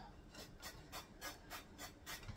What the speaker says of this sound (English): Make sure you rub that grease in good.